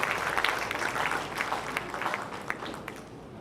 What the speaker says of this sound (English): can we have a huge round of applause as we get to see this video?